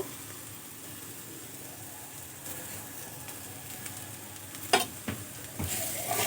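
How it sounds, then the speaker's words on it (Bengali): Mashed green peas with chopped coriander leaves stir-fry in a pan, a soft steady sizzle broken by a few sharp scrapes and clatters of a spatula near the end. "এভাবে নাড়াচাড়া করে আরও আমি দু তিন মিনিট খুব ভালো করে ভাজা ভাজা করে নেব"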